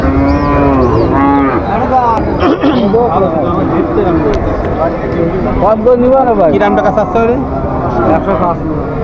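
A cow moos loudly and repeatedly at a cattle market, long drawn-out calls one after another over a steady murmur of voices in the background.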